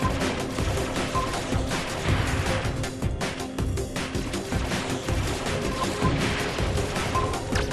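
Rapid gunfire and crashing blasts from a boss battle in a Nintendo 3DS video game, played on an emulator at 10x speed, keep up a dense, loud, continuous barrage with no pause.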